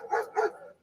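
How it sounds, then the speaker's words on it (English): A dog on an island barks in three sharp, loud, close bursts at a passing boat, with short pauses between them. "barking at a passing boat"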